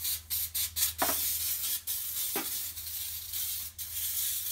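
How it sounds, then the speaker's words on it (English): Easy-Off oven cleaner sprayed liberally inside an oven: short hissing aerosol bursts at first, then a long continuous spray over a low steady hum, close and fairly loud. "Now we need to spray our oven very liberally with our Easy Off."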